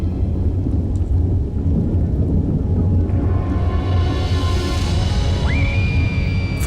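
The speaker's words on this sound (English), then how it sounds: "There was a rumbling sound, like an approaching storm." Deep, continuous rumbling like an approaching storm heralding the 1755 Lisbon earthquake tsunami, loud and sustained throughout, with a rising whistle-like tone emerging near the end.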